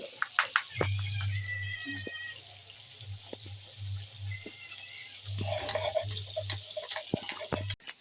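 Sesame seeds are ground into paste for a Bengali fish recipe, giving close, steady back-and-forth grinding strokes as a low rhythmic rumble with small clicks, pausing briefly midway before starting again.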